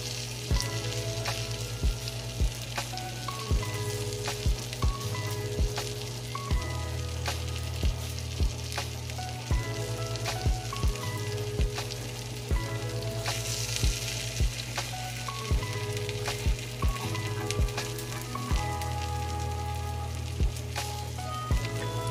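Salmon steak frying in a pan with onion and garlic, a dense continuous sizzle and crackle with scattered sharp pops and light stirring clicks, steady and close throughout with no talking.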